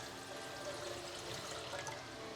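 Water pours steadily into a cooking pot for Bisaya-style chicken and shrimp soup, a continuous even splashing rush with no pauses, close and moderate in level, heard alone.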